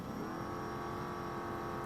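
Baja truck engine in a BeamNG desert racing game, revved hard with the throttle held wide open: a steady, loud, droning high-rev whine with harmonic buzz, continuous and alone.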